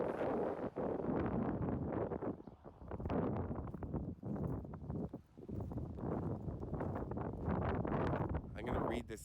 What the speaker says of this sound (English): It's very windy, I'm sorry.